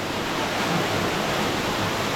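A waterfall at a local swimming hole pours steadily, a dense continuous rush of falling water heard up close with no talk.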